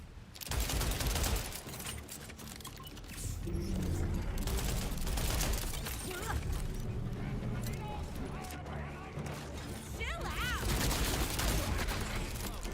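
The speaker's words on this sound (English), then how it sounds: "What gun is this? The SMG was the Juliet Sparkle." Rapid SMG bursts from the Borderlands 4 shooter game, a dense run of gunfire mixed with game effects and music, loud and continuous throughout with a voice talking underneath.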